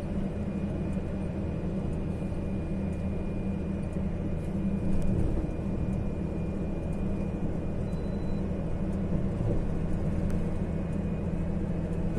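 A DAF CF410 truck rolls downhill on the Serra do Cafezal with the engine brake released, its engine a steady, close, low droning rumble that holds evenly throughout without speech.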